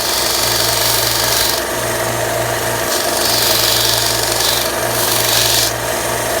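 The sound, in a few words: grinding down a pistol magazine with a 1/4 inch bit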